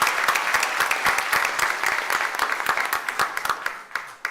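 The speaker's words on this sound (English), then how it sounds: "So please, a round of applause for you." Audience applause in a room of parents and staff at a Cuyahoga Falls City Schools board of education meeting, a dense, steady wash of many hands clapping at once that thins slightly toward the end.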